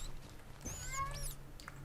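A cat in the Minecraft video game gives a short, rising-and-falling meow, faint and close, over a low background hum with no talking.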